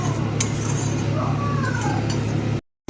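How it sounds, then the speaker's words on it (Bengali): Coriander chutney being stirred in a pan to dry off its water produces close metallic spoon scrapes and clinks against the pan over a low steady hum, ending in a brief silence. "এবার এটাকে ভালো করে জল শুকনো করে ভালো করে কষিয়ে নেব।"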